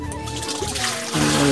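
A thin stream of water trickles and splashes steadily, growing slightly louder and fuller toward the end.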